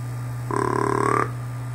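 Vector Custom deer call giving a single sustained mature buck grunt, deep and throaty, lasting under a second over a steady low hum.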